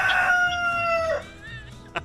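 A backyard rooster crows once loudly and close, a long drawn-out call that fades, followed by a brief cluck at the end.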